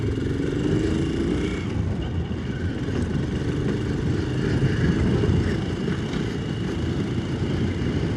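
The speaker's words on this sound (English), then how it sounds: "Pretty about the rattly top box, spoiling my peace and quiet." A motorcycle rides along with its top box rattling, a steady engine drone and road rumble carrying a constant vibrating buzz throughout, loud and close with no talking.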